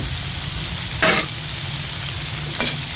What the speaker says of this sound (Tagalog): At halu-haluin lang po natin ng ganyan-ganyan hanggang sa siya po ay madurog-durog.